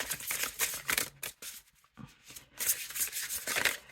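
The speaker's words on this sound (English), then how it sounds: "like that noisy cardstock where it's nice, it shuffles nice." A tarot deck of noisy cardstock being shuffled by hand, giving bursts of crisp riffling and flapping card noise, close and loud, with a brief pause in the middle before shuffling resumes.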